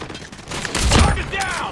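A burst of video-game sniper kill and headshot effects: a loud, booming shot with a rolling tail, then rapid crackling bursts, all within under two seconds.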